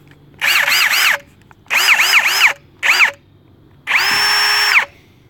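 A Ridgid brushless hammer drill is run in four separate bursts, three short and one longer, each spinning up to a loud whine with a fluctuating pitch before stopping, with quiet gaps between.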